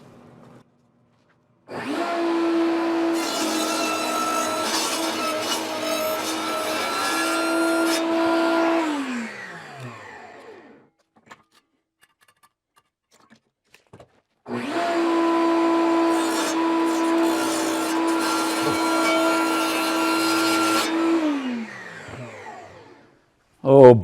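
A power saw makes two long cuts for a stairwell opening, each a steady, loud whining drone of about seven seconds that winds down at the end, with a quiet pause between the cuts.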